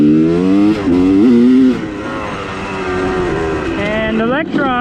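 A motorcycle engine with an FMF exhaust revving hard with a raspy, loud exhaust note, pitch rising and falling through several throttle blips, close by.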